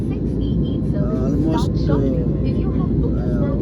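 Steady, loud low roar of jet airliner cabin noise during the climb on a Chennai to Vizag flight, constant throughout, with a person talking over it.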